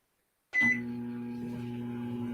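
A microwave oven making homemade popcorn starts with a short beep, then settles into a steady low electrical hum that continues alone and close.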